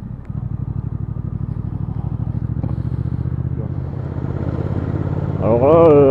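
A new Triumph Speed Twin 1200 motorcycle engine thrums steadily during break-in riding, a low pulsing rumble that rises in pitch and revs higher toward the end, with wind noise around it.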